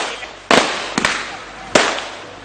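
Firecrackers set off by protesters at a town street demonstration give three sharp, loud cracks over a roughly two-second span, with crowd noise underneath.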